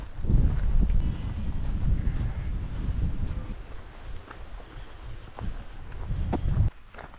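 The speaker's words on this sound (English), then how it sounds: "if this wind stays like this" Strong wind gusts buffet the microphone on a mountain trail along the Snowdonia slate country, a low rumbling roar that swells and eases in waves, with faint rustles and knocks beneath.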